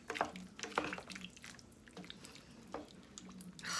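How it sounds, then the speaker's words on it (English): A spoon stirs vegetable beef soup in a pot, giving soft wet scraping and sloshing strokes with liquid drips, close and fairly quiet, with no talking. "give it a little stir around here"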